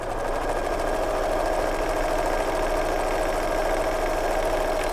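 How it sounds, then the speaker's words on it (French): A sewing machine stitches small patchwork fabric squares in a quarter-inch seam, a continuous fast mechanical whirring with a rapid even clatter, steady and close with no talk. "je retourne mes petits carrés de tissu pour à nouveau coudre à 1/4 de inch, du coup de l'autre côté de la ligne"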